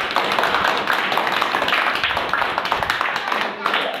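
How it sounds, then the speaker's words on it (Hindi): Children clapping their hands together in a classroom, a dense, continuous patter of many small claps lasting a few seconds, close and steady with voices mixed in. "बहुत बढ़िया, ताली बजाओ सबके लिए।"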